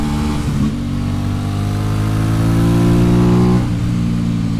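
A 600cc super sport motorcycle's engine revs hard and close, its pitch climbing steadily over several seconds before backing off sharply, with no talk over it.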